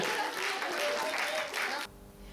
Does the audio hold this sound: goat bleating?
no